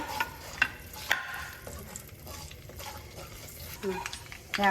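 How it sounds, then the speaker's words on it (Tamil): Mustard seeds and fenugreek splutter in hot oil with scattered pops and crackles over a low sizzle, while a voice speaks intermittently. "கடுகு மெந்தியமாக நல்லா வடித்தாச்சு."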